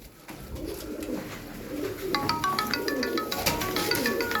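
Soft, low cooing from about a dozen Turkish tumbler pigeons repeats in a steady rolling rhythm, with scattered higher chirps and fluttery bird noises joining midway.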